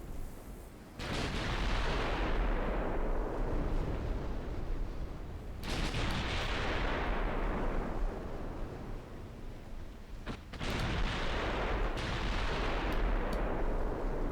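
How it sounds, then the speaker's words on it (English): Naval gunfire in a video game: three heavy, booming salvos a few seconds apart, each a loud blast followed by a long rumbling roll that fills the space between shots. "There we go, 2-inch guns going."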